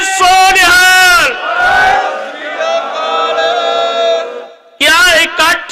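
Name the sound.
crowd answering a Sikh jaikara with a shout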